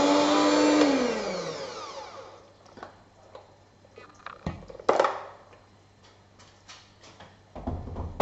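An ice cream machine runs with a steady whirring hum that winds down as it is switched off, leaving scattered clicks, taps and knocks from handling the machine.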